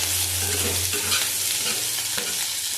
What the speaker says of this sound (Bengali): দেখো একটা শুকনো লঙ্কা দিয়ে দিলাম।